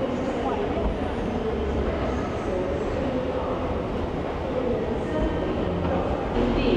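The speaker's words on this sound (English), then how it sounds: "So I am on the 9:45 to Manchester Airport from platform 16." On-board rumble of a UK train running to Manchester Airport, a steady close broadband roar with faint rattles throughout and no clear speech.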